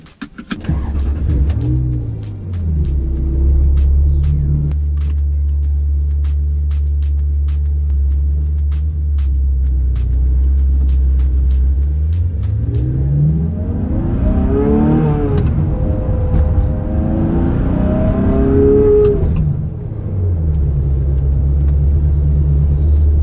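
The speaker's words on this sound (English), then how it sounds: "How about we take the car for a little drive, see how it handles, how it sounds." A 1999 Ferrari 360 driving and accelerating: a deep steady engine rumble gives way to rising revving sweeps climbing and falling through gears, loud and close from inside the car, with no talking.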